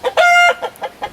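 Chickens and roosters cluck loudly and close by, starting with one long drawn-out call and then a few short clucks in quick succession, with no talking.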